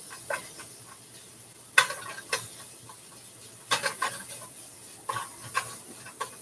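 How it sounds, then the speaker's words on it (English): Half a pound of ground beef sizzles quietly in a pan, with a soft continuous hiss broken by scattered pops and occasional scrapes of stirring, and no one speaking. "we're going to fry up that half pound thing of ground beef meat"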